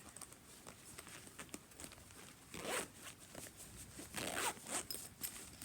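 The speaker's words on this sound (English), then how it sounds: "I wanted something that zipped completely shut, and it does." A zipper is pulled in several short rasping strokes, close up, with light handling rustle between pulls.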